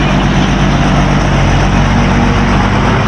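A boat motor runs loud and steady on a passenger boat in Marinduque, Philippines, its engine drone filling the whole stretch up close without a break and with no voices.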